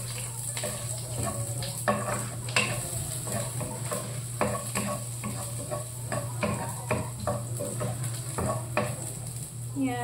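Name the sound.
sautéing garlic, onion and tomato for sardines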